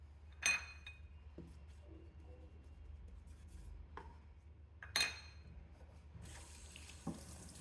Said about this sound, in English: I do a first rinse with tap water to remove the cleaning solution and all the dislodged filth that it's lifted.